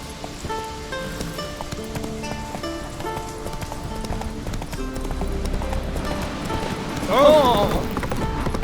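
Galloping hooves of Roach, Geralt's horse in The Witcher 3, pound in a quick steady rhythm close by over game music, ending in a brief snort or whinny as the horse reins in.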